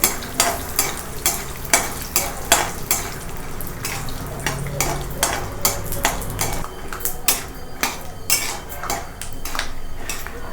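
Peanuts frying in oil over a low flame while a utensil stirs them, giving a steady series of sharp scraping clacks against the pan over a soft bed of frying noise, close and fairly loud.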